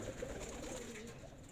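Pigeons coo softly and continuously in a loft, a low murmuring of several birds close by.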